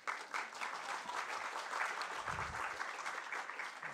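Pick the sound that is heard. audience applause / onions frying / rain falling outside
audience applause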